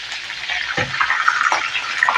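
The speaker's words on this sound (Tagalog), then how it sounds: "Dito naman guys ay magkikrito ako ng isang pirasong tilapia lang" A single seasoned tilapia, rubbed with salt, garlic and pepper, fries in a pan, giving a steady close sizzle with a few brief pops and crackles.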